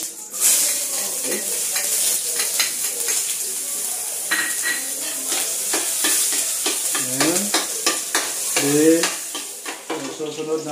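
Garlic and onion sauté in a hot pan for ginisang kanin, a steady loud sizzle broken by repeated scrapes and clinks of a utensil stirring against the pan, close up and with no talking.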